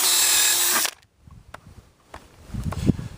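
A power drill whirs loudly for under a second as it drives a screw into wood on a DIY hoop house build, followed by quieter knocks and handling thumps.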